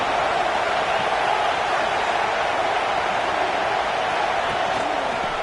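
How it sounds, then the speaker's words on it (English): Steady, dense roar of a football stadium crowd at a college game between the Buckeyes and Clemson, a continuous wash of massed voices at even loudness throughout, rising as the defense lines up for a red zone stand. "And here comes the noise. This crowd is trying to inspire this defense to make a big red zone stop."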